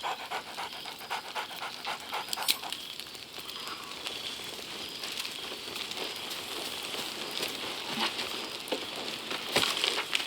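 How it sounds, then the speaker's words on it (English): Scratch the dog from Baldur's Gate 3 pants steadily and close up for the whole stretch, under a hissing, crackling background, with a few sharper bursts and no clear bark standing out. "Scratch barks merrily in something like agreement."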